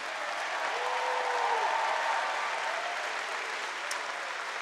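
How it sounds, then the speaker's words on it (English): Steady applause from a large audience at the 2023 Liberal national convention, a continuous wash of clapping held at an even level throughout, with a faint tonal whistle briefly audible above it. "How about a huge round of applause for everyone from Suzanne?"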